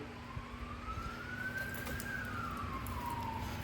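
A faint police or ambulance siren wails in the distance, its pitch slowly rising then falling, over a steady low hum.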